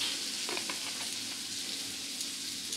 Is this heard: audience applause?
no